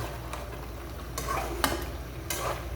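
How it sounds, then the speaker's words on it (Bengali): Spiced ingredients being stirred in a cooking pan, with scraping strokes of a utensil at a steady rhythm over a faint, constant sizzle, close by and alone. "এগুলো এখন ভালো করে নাড়াটা দেবো"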